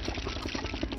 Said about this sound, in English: Sounds like a helicopter came in here